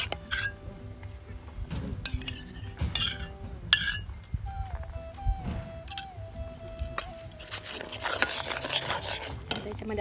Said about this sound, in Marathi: आता याच्यामध्ये 2 चमचे साजूक तूप घालून आपले तीळ याच्यात टाकूया आपण